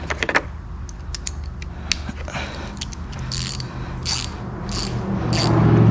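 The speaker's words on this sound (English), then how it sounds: "I do want to tighten these in kind of a order, because I don't want to, you know, I want the gasket to seal pretty good" A 1/4 inch ratchet tightens bolts on a gasket in a shop, giving a few bursts of quick clicking pawl ratchets close by over a steady low hum.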